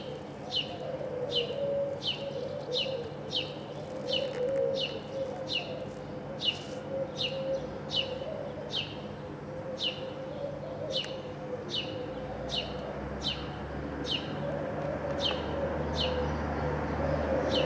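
Doves fed at an apartment window give a steady run of regular, fairly close chirps and calls, repeating roughly every second over a low continuous background hum.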